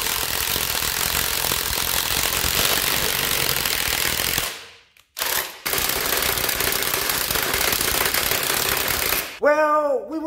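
Ozito PXIDS-300 brushed and PXBIS-320 brushless impact drivers driving bolts, heard as loud, dense, continuous hammering rattle up close, with a brief pause near the middle before resuming, ending in a rising motor whine.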